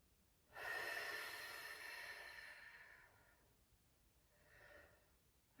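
A long, breathy exhalation during a thoracic mobility stretch in a mothers' fitness class, loud at first and fading over a few seconds, followed by a softer second breath out.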